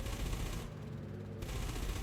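Multi-cannons firing in the space combat game Elite Dangerous, a continuous dense rattle of rapid shots, loud and close, with a short lighter stretch in the middle and no talk.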